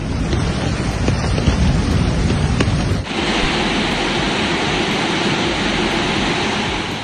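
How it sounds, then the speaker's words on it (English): Heavy rain and hail pound down during a storm in Bergheim, Germany, a loud dense roar of water that shifts abruptly to a smoother steady downpour midway. "the combination of intense rainfall and hail in such a short period of time is unusual"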